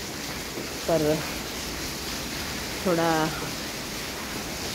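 Rain falls steadily in Vadodara, a constant hiss like white noise heard from under a shed, with two brief spoken phrases over it.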